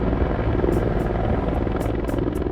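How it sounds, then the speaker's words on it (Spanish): A helicopter flying: a loud, continuous rotor and engine drone with a heavy low rumble, steady throughout, with a few brief higher bursts on top. "Lo llevaban en un helicóptero."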